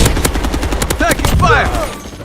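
Video game gunfire: rapid automatic bursts, loud and close, with a voice briefly calling out partway through.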